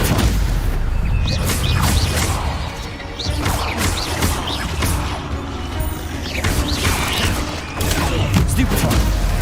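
Stupefy spells are cast during combat in the Hogwarts Legacy video game, giving loud repeated bursts, crashes and booming impacts. A voice shouts excitedly over the action.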